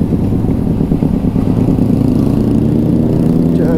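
A superbike engine on a street ride makes a loud, close, steady rumbling drone with slight rises in revs. No one speaks over it.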